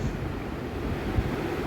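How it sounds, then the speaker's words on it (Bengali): Steady low wind rumbles and buffets across an outdoor gathering on a cool, overcast day, a continuous soft roar with no voices. "মাঝে মাঝে বাতাস বইছে"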